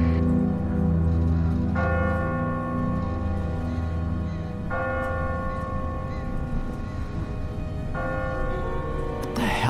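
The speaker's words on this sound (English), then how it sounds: "Ask not for whom the bell tolls." A church bell tolls slowly in The Walking Dead video game, three resonant strikes a few seconds apart with long ringing decay over a low ambient rumble.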